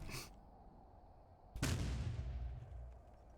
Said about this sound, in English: This is a fragmentation grenade, and that's interesting.